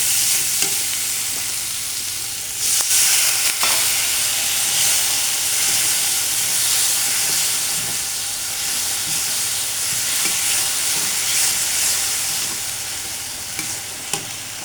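Vegetables and dried ribbonfish sauté in a pan with spices, making a continuous hissing sizzle with soft stirring scrapes and an occasional louder clatter, close and steady.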